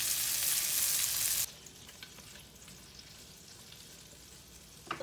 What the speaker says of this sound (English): The onions are starting to simmer real good.